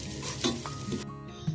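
Eggs sizzle as they fry in oil in a pan for egg fried rice, a steady crackling hiss with a few stirring scrapes, close and moderately loud, no voices.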